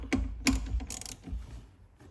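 A ratchet wrench with a 14 mm socket clicks on a seat belt bolt in a 2022-2025 Honda Civic, giving a few quick close ratcheting bursts and some metallic handling over about two seconds.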